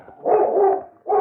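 A husky sounds off in an old-time radio drama with a single sustained, loud bark-like yelp lasting about half a second, followed by the start of another right at the end.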